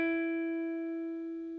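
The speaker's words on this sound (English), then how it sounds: "Instead of no vibrato, which sounds like this." A single sustained electric guitar note rings steady and even in pitch, slowly fading without any wavering.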